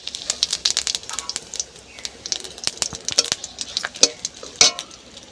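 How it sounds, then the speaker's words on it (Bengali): Bay leaf, dried red chili and whole cumin seeds sizzle and crackle in hot oil left from frying fish heads, with dense close spitting and pops and occasional utensil clinks. "মাছের মাথা ভাজা হয়ে গেছে, তুলে নিচ্ছি। ওই তেলেই আমি ফোড়ন দেব।"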